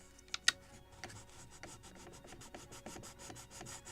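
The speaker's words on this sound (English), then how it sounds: "clean this, chamfer it on the bulkhead" A file rasps along a wooden plank edge to chamfer it on a model gunboat build, rhythmic short strokes repeating evenly after a couple of sharp clicks at the start, close and quiet with no talk.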